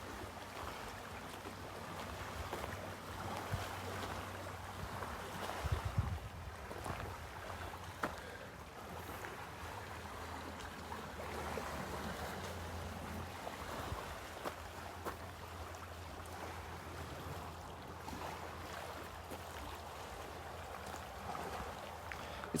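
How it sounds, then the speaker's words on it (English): Water washing steadily onto a shore, a continuous broadband wash with gentle surges and a low rumble of wind, heard outdoors on a sunrise walk without speech. "Can you hear the water?"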